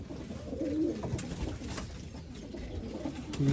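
Chinese pigeons in their coop give a few soft, low coos close by over a quiet background.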